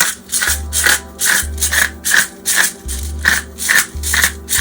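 A pepper grinder cracks black peppercorns in rhythmic twisting strokes, about eight gritty rasping scrapes close up, each paired with a low mechanical hum, with no talk.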